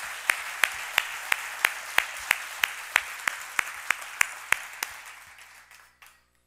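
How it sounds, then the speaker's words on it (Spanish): A congregation claps for about five seconds at a church lunch event, sparse loud individual claps standing out over a steady wash of applause that gradually fades out. "Vamos a darle un aplauso grande al Rey de Reyes."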